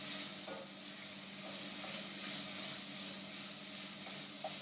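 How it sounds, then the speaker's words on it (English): Chopped onions sizzle steadily in coconut oil in a hot pan, with soft scraping as they are stirred; a constant, fairly quiet frying hiss with no talking. "We'll just put our onions in there, give them a quick stir"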